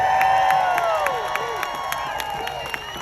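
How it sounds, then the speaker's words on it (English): A crowd at a rally in Ottawa cheers and shouts with scattered whoops, a dense, steady roar that stays loud throughout with some voices rising above it. "I want everybody to give a massive round of applause for the PBS"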